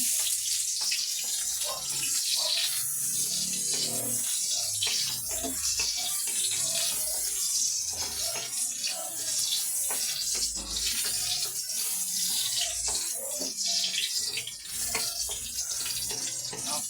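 Garlic sizzles in hot oil in a pan as a Filipino tuna dish with coconut milk gets started, giving a steady, fairly loud hiss and crackle with no talking.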